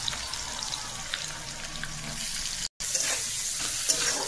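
Onion dropped into a hot pan with chilli and salt, frying with a steady loud sizzle and crackle throughout, briefly cut out for a moment before the sizzling resumes.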